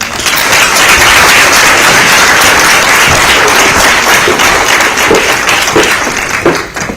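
Loud audience applause at a formal conference session after a minister's speech, a thick, continuous wash of many hands clapping that holds steady and eases only slightly near the end.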